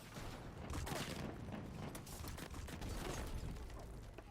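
Video game gunfire rattles in rapid, dense bursts over constant noise, fairly quiet and continuous, with no talk.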